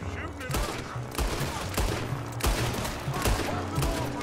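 Repeated gunfire from Red Dead Redemption 2 gameplay, sharp shots cracking out every half second or so in a steady volley over a busy, loud game soundscape.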